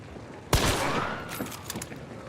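A chaos bomb in Hunt: Showdown sets off a sharp burst, then keeps crackling and popping in a rapid series of firecracker-like reports that fade over a couple of seconds.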